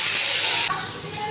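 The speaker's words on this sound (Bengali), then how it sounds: "এবার এটাকে ভাজবো।" Chopped tomato and two green chillies dropped into hot oil with cardamom, clove and five-spice, a loud hissing sizzle that cuts off sharply partway and gives way to a softer, quieter crackle.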